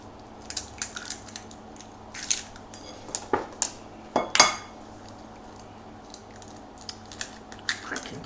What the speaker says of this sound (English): So, I'm going to crack in 2 eggs